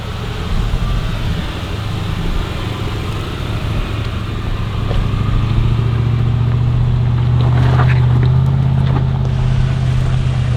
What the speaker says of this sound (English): hopefully we can hear some V8 sounds